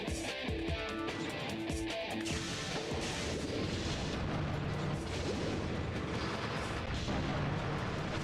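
Repeated gunfire from a robot's weapon in the Custom Robo video game, dense bursts and booming blasts layered loudly over continuous game sound effects and music, with no talking.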